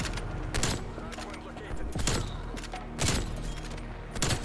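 Bursts of gunfire in a Call of Duty Cold War match, about five sharp volleys spaced roughly a second apart, punchy and close over a steady game background.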